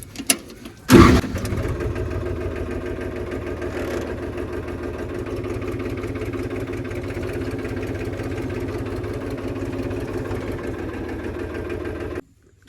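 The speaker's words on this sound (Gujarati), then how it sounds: "ટ્રેક્ટર ચાલુ કરીએ અમે." A tractor engine cranks and catches with a loud burst near the start, then settles into a steady, close, rumbling idle for about eleven seconds before cutting off abruptly.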